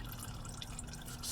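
Used engine oil drains steadily from a 2012 Toyota Camry 2.5L, a continuous close trickling and splashing stream into a pan.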